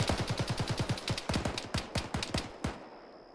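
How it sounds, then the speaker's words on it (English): Rapid gunfire crackles during a military field training exercise, a fast string of sharp close shots in uneven bursts that ends with a final shot and a short fade. "Shots behind us."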